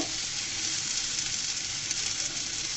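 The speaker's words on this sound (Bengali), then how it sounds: "এরপর যে আমি আলুগুলো দিয়ে দিলাম। আলুগুলোকে আমি সেমভাবে ভেজে নেব।" Potatoes fry in a pan with just a little oil, giving a steady, even sizzling hiss that stays at one level throughout, with no talking.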